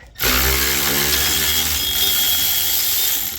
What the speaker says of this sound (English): I'm going to grab the electric ratchet. Hopefully it takes them out the rest of the way.